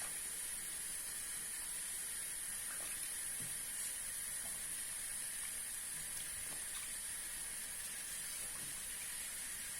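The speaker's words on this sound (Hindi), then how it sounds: "इस तरह से बाउल में डाल के इसमें हम पानी डालेंगे" Faint, steady running water hisses into a bowl, with occasional soft splashes and light knocks as bitter gourds are rinsed.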